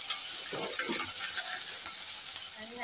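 Browned onions sizzle in a pan with ginger-garlic paste added, for rajma masala. A broad, even frying hiss carries a few stirring scrapes near the start, and no one speaks.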